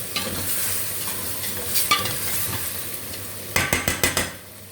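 Chili flakes and spices being stirred into a pot of boiled chicken, with a low background sizzle, scattered scrapes and a quick run of clinking spoon taps near the end, close by with no talking.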